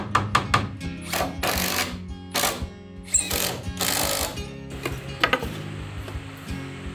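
Screws driven into a wooden wall shelf from the strip side while building a compact study: repeated bursts of whirring driver action with sharp clicks and thunks between them, close and fairly loud, with no talking.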